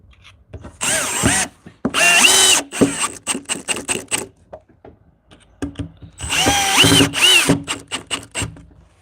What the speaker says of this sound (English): get the final screws in this